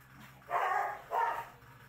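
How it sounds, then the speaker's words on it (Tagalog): Two quick barks from a dog at an animal rescuer's home in San Mateo, Rizal, where dozens of dogs and cats are kept; moderately near, against a quiet background. "Nasa higit 50 aso at 30 pusa ang nasa pangangalaga ni Tess sa kanyang tahanan dito sa San Mateo"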